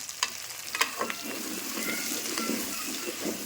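Brinjal pieces fry in oil in a pan while being stirred, a close continuous sizzle broken by a few clinks and scrapes of the spoon, with no voices.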